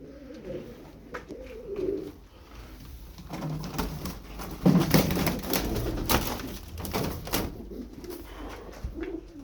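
Perçemli Çakmaklı pigeons cooing inside a loft, soft repeated coos close by with wing flutters and scratchy rustling bursts in the middle, no voices present.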